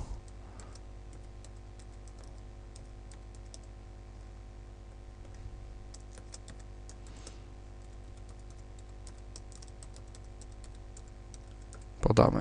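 A password is typed on a computer keyboard, faint light key taps scattered over a steady electrical hum, ending in a brief louder burst of noise.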